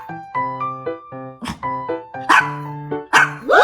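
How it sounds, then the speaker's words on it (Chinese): Small dog giving several short, high yapping barks in a sequence, close by, as if answering simple counting questions, with brief pauses between bursts. "铁柱，人家小狗都会算数，你会吗？ 好，做1加1，好，1加2"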